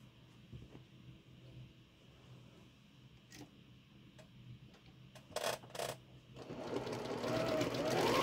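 Sewing machine stitching 5.5-inch quilt block pieces together, its motor running in a steady hum with brief bursts, rising to a louder continuous run near the end; no talking.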